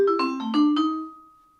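A quick run of five or so mallet-struck vibraphone notes played dry without pedal, short and clipped, with only the final note left ringing briefly as it fades.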